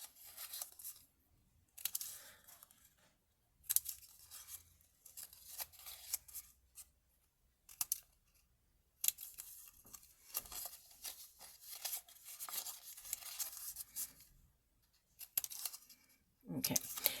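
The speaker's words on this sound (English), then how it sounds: "I'm going to cut these little flaps off on both sides" Scissors snip at a paper treat box in short close bursts of cutting and rustling with quiet gaps between them, and a voice speaks at times.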